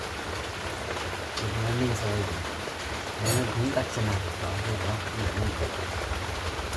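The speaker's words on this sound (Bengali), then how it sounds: "আর বাইরে বৃষ্টি মানে কাকে বলে" Steady rain patters outside in a continuous wash of noise while a person speaks over it.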